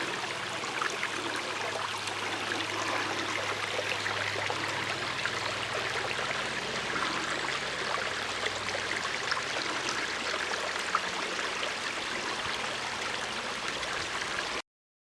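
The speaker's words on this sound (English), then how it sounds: "Here we are, coming down the stream." A cold stream flows steadily nearby, giving a continuous, even wash of rushing and trickling water that runs unbroken before cutting off abruptly near the end.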